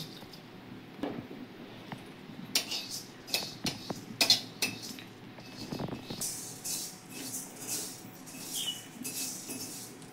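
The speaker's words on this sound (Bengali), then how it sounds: "এটা আমি কড়াতে একটু রোস্ট করে নেব" Quiet scraping and clinking of a utensil against a metal wok as spices dry-roast, intermittent taps and stirs with soft sizzling-like rustle between.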